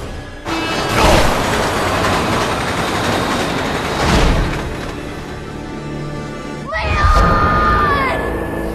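Train crash in Resident Evil 6, a loud, sustained roar of grinding metal and rushing rail noise that swells twice, then ends in a screeching crash and clatter.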